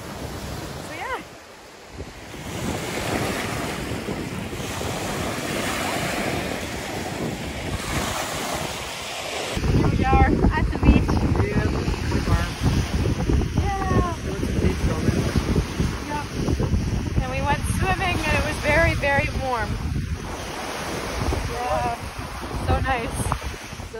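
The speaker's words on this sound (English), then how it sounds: "We are on the beach right now." Waves break on a beach under steady wind buffeting the microphone, a loud continuous surf roar that swells louder midway, with people talking over it.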